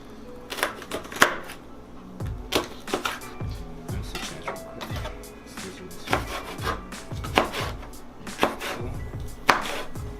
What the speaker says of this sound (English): So you cut it into small slices.